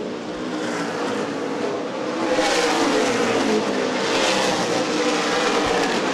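Stock cars race around Winchester Speedway in an ARCA/CRA Super Series event, a loud, continuous roar of engines swelling as the pack passes close, with no talk over it.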